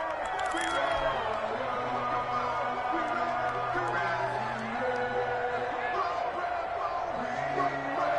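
A stadium crowd at an American football game, Washington Football Team versus the Browns, keeps up a steady roar of cheering and whooping while a commentator talks over it.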